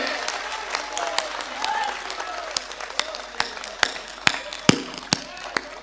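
An audience at a Bageshwar Dham religious discourse claps in a steady, dense wash of applause, with sharp individual claps popping out near and loud toward the end.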